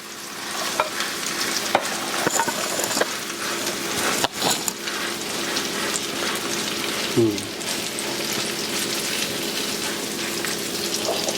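Cornbread batter goes into a hot cast iron skillet to crisp the bottom, giving a steady, close sizzle and frying hiss with a few scraping stirs and clinks over about eleven seconds, no talking.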